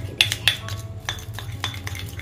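A spoon clinks and scrapes rapidly against a bowl while natural hair dye is mixed with coconut oil, a close series of bright taps and stirs.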